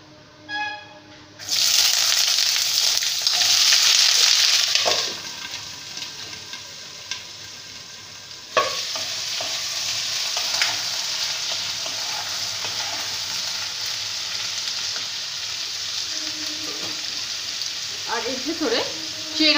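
Potato and cauliflower hit hot oil tempered with black cumin, a loud sizzle that starts abruptly, eases, then surges again as more goes into the pan, with occasional clinks of stirring.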